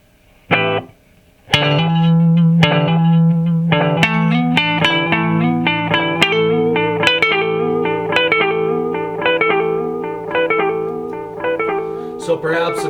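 A Korg SE-300 stage echo set to its longest delay repeats a played instrument's notes, with distinct echoed copies stacking into a dense, sustained, reverberant wash that fills the passage after a brief opening gap.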